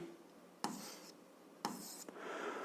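A pen writing out an algebra equation on paper, two short scratchy strokes about a second apart followed by a softer stretch of writing, close and quiet.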